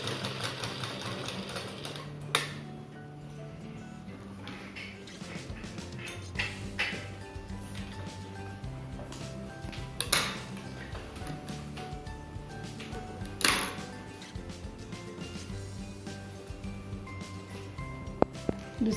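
A sewing machine stitches along the edge of a homemade velcro fabric mask, its rapid mechanical ticking running steadily at close range, broken by occasional clicks and knocks of handling.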